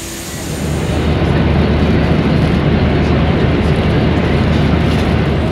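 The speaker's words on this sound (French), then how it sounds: "on va dans l'avion." Steady broadband roar of an airliner's engines heard while boarding the plane, a continuous rumbling drone that swells in the first second and then holds loud and even, with no talk over it.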